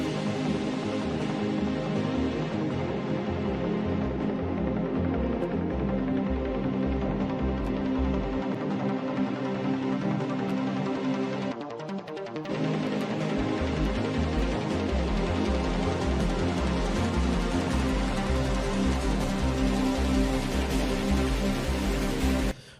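Melodic synth pads and an arpeggio, pitched down five semitones, play in a dense, sustained electronic texture. A steady pulsing low end runs under it, with a brief thinning dropout near the middle before the full sound resumes.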